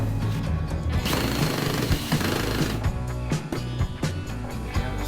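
A power driver sinking screws into glued wood during furniture assembly, a steady, loud buzzing whir that runs continuously with small surges and stutters as each screw seats.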